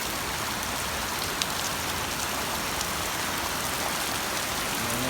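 Heavy rain pounds a roof over outdoor tennis courts at the Palarong Pambansa 2026 games during a downpour, a dense, steady, loud hiss with no let-up and no voices.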